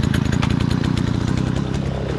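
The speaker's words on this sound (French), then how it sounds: "de la fauche d'herbe en août, grasse et humide avec la débroussailleuse Smart BC52 MTD avec le disque à 3 dents" An MTD Smart BC52 brushcutter fitted with a three-tooth blade roars steadily and close while cutting wet, thick August grass, its high-revving two-stroke engine buzzing continuously without pause.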